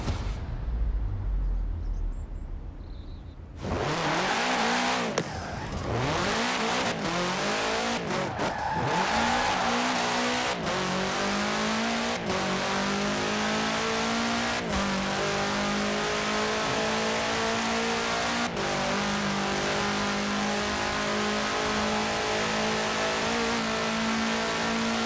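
A 1966 Volkswagen Beetle fitted with a 2.5-liter F4 turbo engine in Forza Horizon 4 revs hard and drives on loudly after a brief quiet start. Rising and falling engine tones continue, with tire squeals and skids mixed in.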